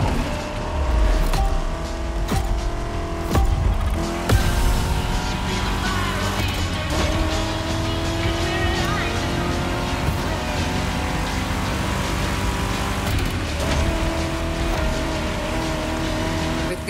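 Vintage cars race in The Crew Motorfest, engines revving loudly with rising and falling tones through gear shifts, occasional sharp bursts and steady roaring drive throughout.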